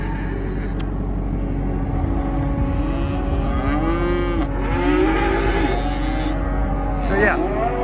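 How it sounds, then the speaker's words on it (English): Cattle on a farm low and moo in several drawn-out calls from middle distance, overlapping a constant low engine-like hum, with no talk in between. "Bowie, and there's another cow, I think she's behind that bale there"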